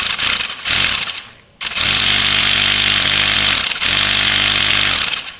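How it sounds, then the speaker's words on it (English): A portable car tire inflator pump with a DC motor runs loud and close, a harsh, steady buzzing drone with a strong mechanical whine that stops briefly, restarts, and dips again before continuing. "see if the pump is running."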